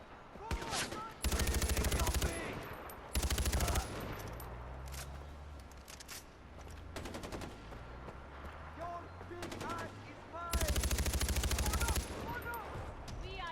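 Gunfire in the video game Far Cry 4: three loud, sustained bursts of rapid shots ring out, separated by stretches of busier game ambience with voices.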